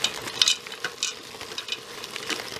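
Chicken, noodles and a bag of vegetables are stirred together in a Cosori pressure cooker, giving scraping, wet clinking stirs in uneven bursts, close and fairly quiet with no talking.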